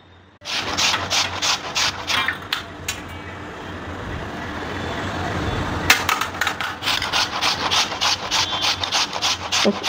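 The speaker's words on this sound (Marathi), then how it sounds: "तर आता आपण भोपळा किसून घेऊया सगळ्यात अगोदर." Pumpkin is grated by hand, a run of brisk rhythmic rasping strokes close by with a short pause midway before the scraping resumes.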